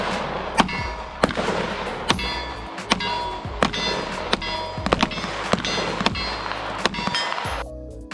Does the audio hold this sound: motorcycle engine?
no